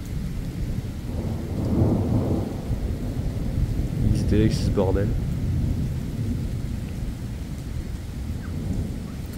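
Thunder from a strong July thunderstorm rolls in deep, rumbling waves over a constant wash of rain, with a person speaking briefly partway through.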